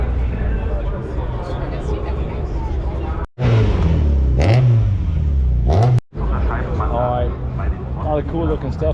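Classic racing cars pass by at the Hockenheim circuit, engines droning and revving close by with rising and falling pitch over crowd chatter, and someone talks over them.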